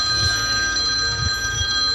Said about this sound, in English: The ringing was persistent, demanding, and sounded profoundly wrong.